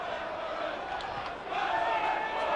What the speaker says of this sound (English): Crowd certainly coming alive. Getting right behind Middlesbrough.